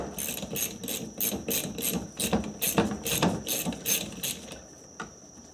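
Repeated clicking ratchet strokes from a wrench removing a nut on a Nissan Maxima cooling fan motor, in quick bursts with short pauses, close and crisp.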